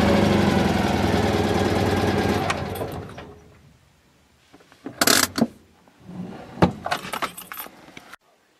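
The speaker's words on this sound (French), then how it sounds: "C'est ce que j'appelle démarrer au quart de tour." A car engine idling steadily and loudly, then dying away into silence, followed by a run of jangling, clattering keys close by.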